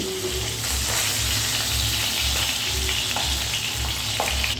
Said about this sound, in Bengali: উল্টে পাল্টে দুই দিকটা একটু ভালো করে ভেজে নিতে হবে